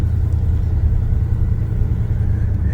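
Old Chevy C10 pickup truck engine running, heard as a steady, close, low-pitched rumble with an even throbbing pulse and no talking.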